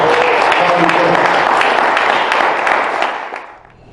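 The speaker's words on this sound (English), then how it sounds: "Please give a great round of applause for" Audience at a national summit on historically Black colleges and universities breaking into dense, sustained applause in a hall, a loud wash of clapping that fades out toward the end.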